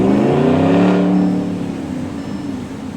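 A car engine revs hard and loud, pitch climbing then easing off as the roar settles into a steady lower drone.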